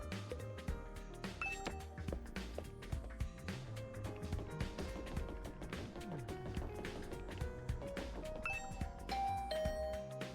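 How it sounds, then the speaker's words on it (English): A video game doorbell rings, its chimes mixed into a busy musical background that plays continuously throughout. "I rang the doorbell to Tsubasa's room."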